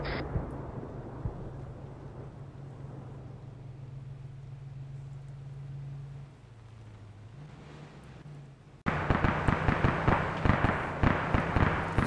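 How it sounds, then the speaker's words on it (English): Turret cover fire in a video game, a sudden switch to loud, close bursts of rapid shots with sharp repeated cracks after a stretch of low engine rumble and hum. "Cover fire from the turret."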